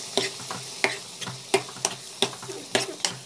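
A spoon scrapes and stirs through chana dal sizzling gently in a pan, in steady, evenly spaced strokes with no talking.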